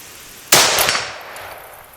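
A CZ-527 rifle fires a single 7.62x39 Hornady SST round, giving one loud, sharp report that rings out and fades slowly over the next second and a half.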